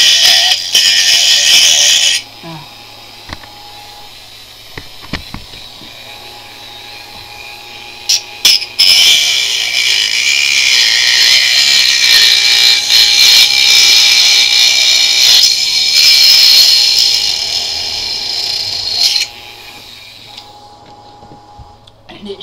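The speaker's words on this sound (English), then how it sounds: "I'm already starting to Dremel it down, so I'll show you how to do that. Turn your Dremel on" A Dremel rotary tool cuts into the plastic of a Nerf Barricade blaster, a steady high whine running in long stretches with brief pauses and a few sharp knocks between passes.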